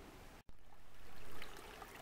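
A stream flows through woodland in a steady, full rushing wash of water, close and continuous, broken by one brief dropout.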